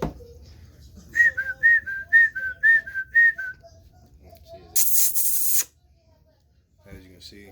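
A person whistles to American Bully puppies in a series of about six short, clear, evenly spaced chirps, followed by a burst of loud spray-like hiss and a faint voice at the end.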